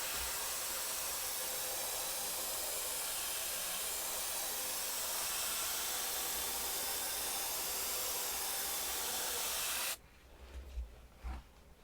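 An airbrush spraying paint gives a loud, steady, broad hiss that runs unbroken for about ten seconds, then cuts off abruptly, leaving a few soft handling knocks.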